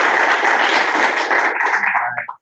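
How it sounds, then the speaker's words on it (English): A live seminar audience claps steadily at close range, dense broadband applause filling the room before tapering off quickly at the end. "Should we give her a round of applause?"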